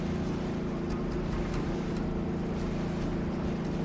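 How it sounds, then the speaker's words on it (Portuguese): A speedboat engine in Just Cause 3 drones steadily, a constant low motor hum mixed with rushing water noise, moderately loud and unbroken, with no talking over it. "essa lancha aqui. Olha como ela é rápida."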